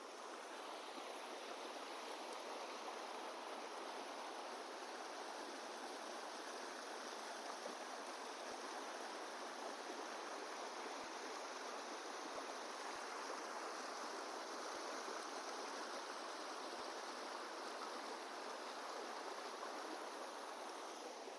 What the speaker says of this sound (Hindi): मतलब पानी बह रहा है